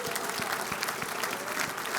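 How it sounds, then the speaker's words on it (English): Steady, dense audience applause filling a sales conference hall for top performers, even and sustained with no talking over it. "a round of applause for crushing it last year"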